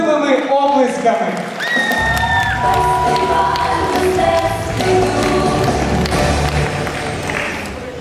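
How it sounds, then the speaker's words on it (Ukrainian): Students in a university faculty debut show get a crowd's applause and cheering, with shouts and whoops over steady clapping from a full hall, loud and sustained throughout. "Зустрічаємо бурхливими оплесками!"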